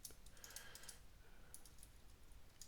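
Keyboard typing on a computer, a quick run of soft clicks over the first second and a few scattered keystrokes after, faint and close with no talk.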